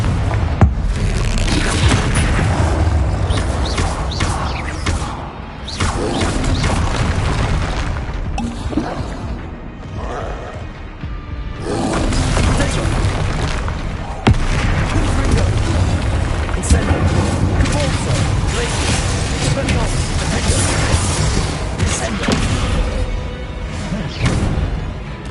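Explosion spells going off in the video game Hogwarts Legacy, loud booming blasts and crackling debris piling over each other in a dense, nearly continuous roar with brief dips between volleys.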